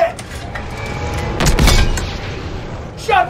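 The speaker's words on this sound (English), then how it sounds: "Shot ricochet! We're hit!" An enemy round glances off the player's tank in Call of Duty WWII at Aachen, Germany, giving a sharp metallic impact with a loud low rumble that swells mid-clip over ongoing battle din, while crew voices call out.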